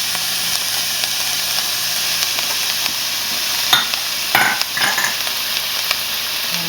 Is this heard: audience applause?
no